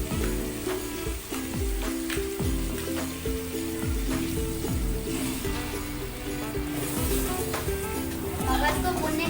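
Pieces of goat brain fry in masala with a continuous hissing sizzle and a few faint stirring taps, heard under steady background music throughout.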